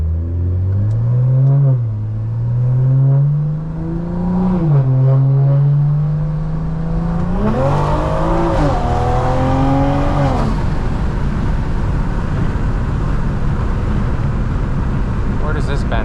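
A Stage 2 BMW M340i engine revs repeatedly, climbing and dropping in pitch. A harder rev builds into a loud, rough exhaust roar with crackling pops, heard close and continuous.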